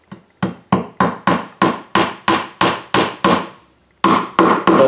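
A hammer drives a nail into the roof of a wooden triplex birdhouse kit, about a dozen sharp, evenly spaced blows with a brief pause before a final quicker run, close and loud.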